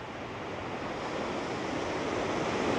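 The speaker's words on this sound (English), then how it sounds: "Look at those waves." Ocean surf washes onto the beach at Callao Salvaje in a continuous broad roar, building slightly louder over a few seconds, with some wind buffeting the microphone.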